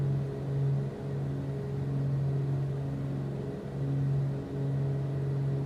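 Piston engine of a Blacksquare Grand Duke aircraft in Microsoft Flight Simulator, cruising at high altitude with a steady droning hum that dips and briefly falters as power fades, then picks back up.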